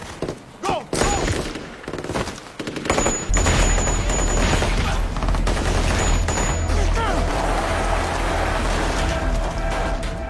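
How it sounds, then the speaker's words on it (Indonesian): Bursts of rapid gunfire crackle through a dense, loud shootout scene in the film Rogue City, with thuds and booms underneath and voices mixed in. "transaksi itu menjadi buyar dan aksi tembak-tembakan pun tak terhindarkan"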